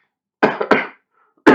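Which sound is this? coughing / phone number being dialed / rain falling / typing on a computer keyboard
coughing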